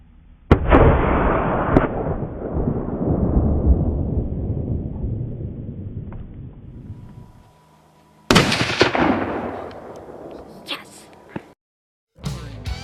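Hunting rifle shot fired outdoors: a sharp, loud report followed by a long rolling echo that fades over several seconds, then a second loud burst with a shorter decay and a few faint pops.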